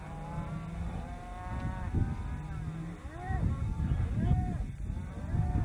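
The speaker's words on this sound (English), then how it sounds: "They're bringing the cows down." Cattle being herded down a slope, with several cows mooing in long rising and falling calls over a steady outdoor rumble, voices mixing in at moments.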